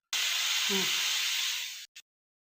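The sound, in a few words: pressure cooker whistle releasing steam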